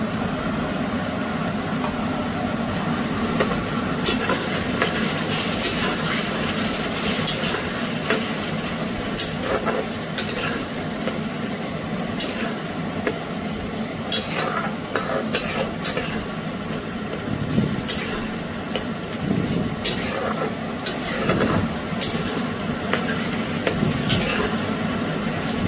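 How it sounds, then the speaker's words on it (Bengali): Onion, ginger, garlic, tomato and chili paste frying in a pan over medium heat, a continuous close sizzle with frequent scraping and stirring clatter throughout, no voices. "এবার এটা মিডিয়াম আঁচে কষে নেব, রসুনের কাঁচা গন্ধ যাওয়া অবধি"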